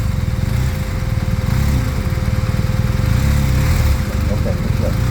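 BMW R1250RTP police motorcycle engine during a motor officer's skill demonstration at Barber Motorsports, a loud, steady throbbing low rumble held close throughout, with faint voice snippets.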